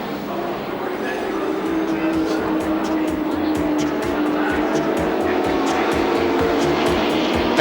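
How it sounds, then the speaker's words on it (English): A 1986 Sandown Castrol 500 touring car engine roars continuously at full throttle, loud and close, with a steady pulsing rhythm and rising pitch as the car passes down the main straight, a commentator's voice faintly underneath. "Fury's car with Glenn Seaton driving it still sounds sweet as a nut."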